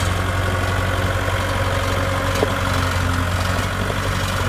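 All-wheel-steer trencher engine running in trenching mode, a loud, steady diesel drone with a deep low hum throughout, close by and without voices.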